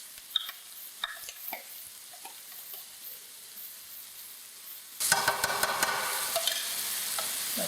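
Sauce is poured into a pan for butter chicken, with quiet stirring and ticks at first, then a sudden loud, close, sustained sizzle and bubbling once it hits the hot pan.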